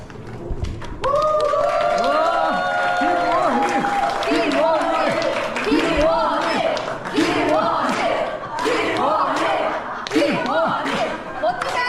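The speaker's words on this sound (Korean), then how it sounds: "큰 박수 부탁드립니다" An audience at a dinner gathering applauding while several voices talk and laugh loudly over it, the clapping a continuous, fairly close backdrop throughout.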